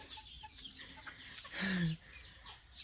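A hen clucks once loudly and close, a short throaty burst amid quieter outdoor background noise and faint bird sounds.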